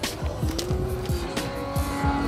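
Need for Speed Underground race played on a car's screen: a revving engine climbs through repeated gear shifts, each rise punctuated by tire squeal, loud and continuous for the whole stretch.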